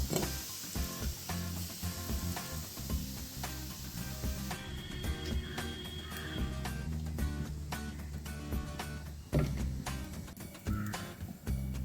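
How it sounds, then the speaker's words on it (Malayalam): Mustard seeds splutter and crackle in hot coconut oil in a pan, a dense run of sharp pops and sizzling that continues steadily throughout, under other layered background sound. "നമ്മളൊരു അടുപ്പത്ത് ഒരു ചട്ടി വെച്ചിട്ട് അതിൽ കുറച്ച് വെളിച്ചെണ്ണ ഒഴിച്ച് കടുകിട്ട് പൊട്ടിക്കുകയാണ് കേട്ടോ"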